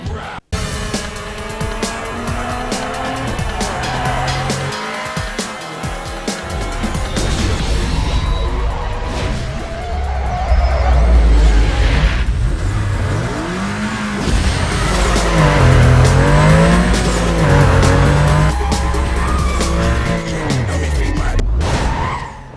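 Race cars in Need For Speed: Most Wanted, engines revving and tires squealing through a speed trap and sprint race, loud and continuous with rising and falling engine pitch and skids throughout.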